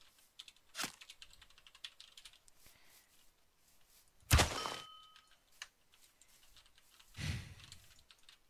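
A computer keyboard is typed on quietly during a game session, with faint scattered key clicks and a few louder sharp clacks standing out, sparse and close.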